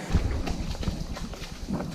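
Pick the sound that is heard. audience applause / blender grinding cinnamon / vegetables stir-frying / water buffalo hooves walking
water buffalo hooves walking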